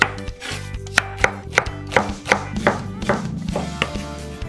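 An onion is chopped with a knife on a board in a quick, steady series of about a dozen crisp, close thunks, each blade strike distinct against a low background hum.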